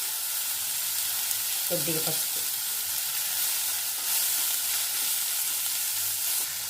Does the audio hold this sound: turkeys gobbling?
no